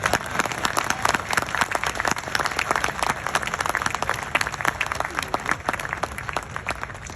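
An audience at a Karachi speech on justice reform applauds steadily, a dense wash of many hands clapping at once. It sounds full and close and keeps going for several seconds without a break.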